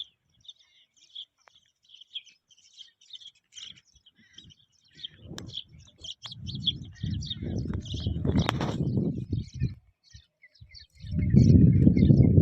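Sparrows near a neem tree keep up a steady stream of faint, rapid chirps in the background. Louder rustling and handling noises come in partway through and again near the end.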